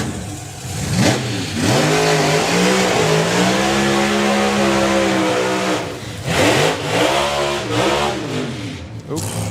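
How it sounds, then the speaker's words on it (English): A drag racing car engine at the FIA Main Event 2024 revs hard and loud near by, pitch climbing and holding, dropping away, then surging again in short bursts. "The engine was making a noise."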